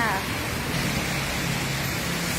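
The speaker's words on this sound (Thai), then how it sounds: "ฝนตกรอบบ่าย อากาศเย็นสบายค่ะ" Steady afternoon rain pours down in Ekkamai, Bangkok, in a dense, even hiss, close and loud, with a voice speaking briefly over it.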